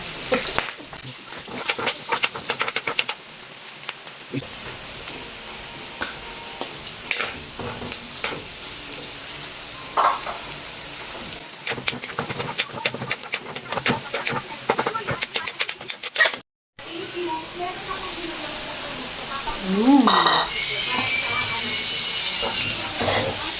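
Garlic and liver sautéing for pancit in a home kitchen pan, a steady close sizzle and hiss with stirring scrapes, broken by a brief silence and then louder frying.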